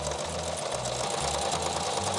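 A sewing machine runs a quick steady stitch along a double-sided apron, its needle pulsing in a rapid even rhythm, close and continuous with no talking.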